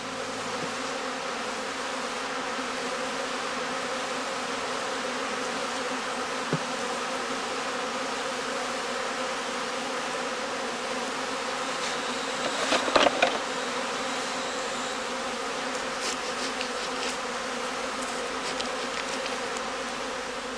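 Honey bees buzz steadily around a heathland beehive during swarming season in northern Lower Saxony, a dense continuous hum close by with a few louder passes near the middle and no talk.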